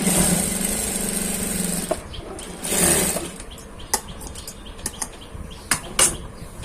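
Sewing machine stitching the side slit of a kameez, a steady whirring run for about two seconds, then a few short bursts and isolated clicks as the fabric is handled.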